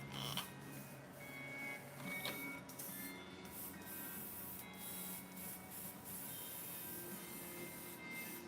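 A 3D printer printing parts for a mini Ibanez Jem replica guitar, giving a faint, continuous whirring hum with shifting motor tones and light scraping texture in a quiet room.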